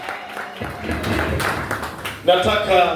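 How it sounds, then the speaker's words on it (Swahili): A church congregation claps along during a service, a spread of quick hand claps running beneath someone speaking over them. "Tupigie Bwana makofi"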